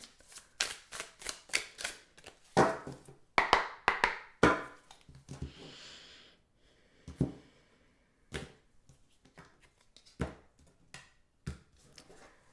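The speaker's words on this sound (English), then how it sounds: "We'll do 3 shuffles and then I'll cut it." Tarot cards are shuffled close by in bursts of quick riffling flutters and sharp snaps, pausing between rounds, followed by a few soft taps and slaps.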